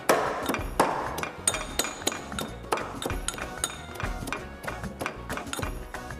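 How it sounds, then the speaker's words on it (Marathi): Garlic cloves, seven or eight of them, being crushed in a kitchen cooking segment: repeated sharp pounding knocks with metallic clinks, steady rhythm across the whole stretch, close and loud with no talk. "या लसणाच्या आपण 7-8 पाकळ्या ठेचून घ्यायच्या."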